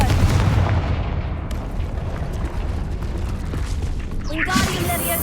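A Confringo blasting spell in Hogwarts Legacy bursts into a heavy booming explosion with a rumbling low roar, followed by a brighter crackling impact near the end, while a voice calls out over it.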